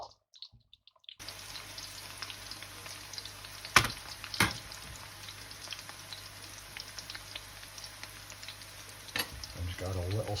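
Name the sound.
onions frying and softening in a pan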